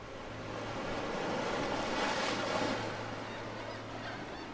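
Ocean water surges through cracks in the circular coral reef rim of Aldabra atoll, a steady broadband roar that swells and eases slightly, with a faint low hum beneath and no voices.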